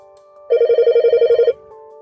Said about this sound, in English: House phone.